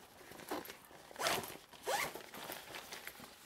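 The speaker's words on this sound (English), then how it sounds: "just take the zipper and just go all the way around" A zipper on a medium Peak Design Travel Line packing cube is pulled around its edge in several quick, close rasping strokes of varying length, alone and fairly quiet.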